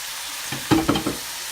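Ground beef browning in a pan for chili, a soft sizzle with a few short stirring scrapes clustered in the middle, close and fairly quiet.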